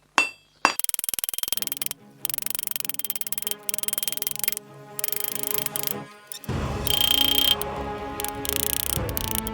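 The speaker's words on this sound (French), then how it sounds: "on va venir sur ce bord là de l'enclume et venir frapper" A steel hammer strikes metal on the edge of an anvil while forging a bottle opener shaped like a unicorn horn, giving rapid bursts of bright, ringing blows split by short pauses, close and loud.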